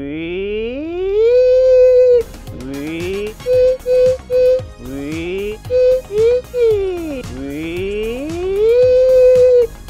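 A voice imitates a Porsche 911 Turbo S engine, rising revving whines broken by short repeated bursts like gear changes, loud and close.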